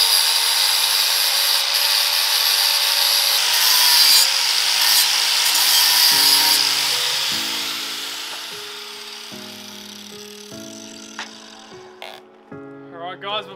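A power tool grinds steadily while notching steel tube for a truggy cage on a chopped V8 Land Rover Discovery 1, loud and sustained before winding down, followed by softer music-like tones.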